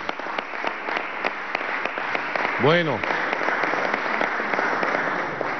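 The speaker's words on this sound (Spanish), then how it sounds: "Un aplauso desde aquí a todo el pueblo del estado Zulia." Crowd applause rings out for the people of Zulia state at a Venezuelan presidential inauguration event, steady dense clapping throughout with a voice briefly over it and a short rising whistle-like tone near the middle.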